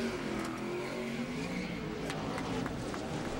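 Race car number 22 pulls away from a pit stop during a 2007 Busch Series road race, its engine note rising as it accelerates, heard under a commentator's voice.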